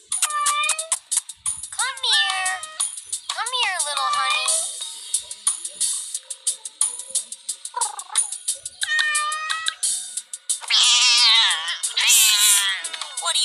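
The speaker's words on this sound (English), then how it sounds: "We brought you your cat." A cat meows loudly and repeatedly at close range in drawn-out, rising and falling cries, including a strained caterwaul. The cries alternate with people talking.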